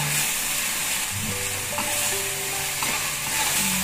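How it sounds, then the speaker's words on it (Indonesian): Braised pork with oyster sauce sizzles steadily in a pan while it is stirred, a dense continuous frying hiss with soft scraping close by. "Kita aduk dulu sebentar"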